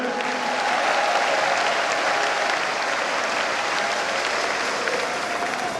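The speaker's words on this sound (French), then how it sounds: "Applaudissons pour nous-mêmes." Continuous applause from a Catholic charismatic renewal gathering in Cameroon celebrating a golden jubilee, a broad, even roar of many people clapping that holds steady throughout.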